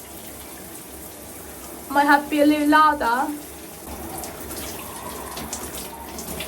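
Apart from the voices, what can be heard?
water running from a tap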